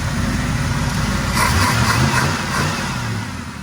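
A small-block Chevy car engine with freshly done exhaust runs steadily up close, a loud, even rumble that swells slightly in the middle as if lightly revved, with no talking.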